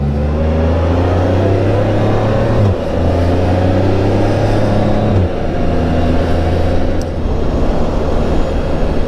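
Can-Am Spyder RT-L three-wheeled motorcycle riding on a country road, its engine droning loud and steady with wind rush, the pitch stepping down and holding through shifts, no talk.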